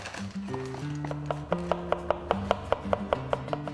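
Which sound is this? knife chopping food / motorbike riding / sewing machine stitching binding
knife chopping food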